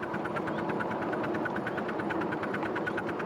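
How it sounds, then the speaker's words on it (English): A steam locomotive chuffs hard in a quick, steady beat, laboring loudly up a grade in full forward gear with a long cut-off, with a continuous rumbling underneath. "You hear the engine working now."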